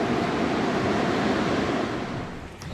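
Heavy rain pours down outdoors in a loud, dense, continuous roar with wind noise buffeting the microphone, easing slightly toward the end.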